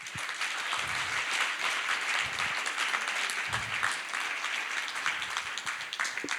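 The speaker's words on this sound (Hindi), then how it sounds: "बस इतनी ही तालियों से स्वागत करोगे?" An audience at a RYLA leadership session applauds to welcome a speaker on stage, with loud, continuous clapping from a crowd in a hall, steady from start to finish.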